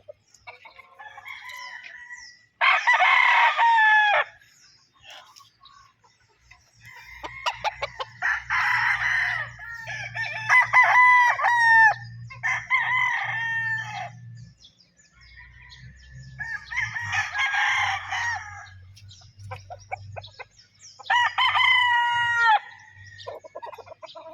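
Roosters on a farm crow loudly and repeatedly in long calls, with hens clucking between them and a low rumble underneath; the crows come from several birds at varying distances.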